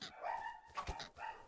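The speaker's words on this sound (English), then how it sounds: "Milo's barking." Dog barking in the background of a Creativerse game session, a few short yips and barks spaced across the moment, moderately close but not loud.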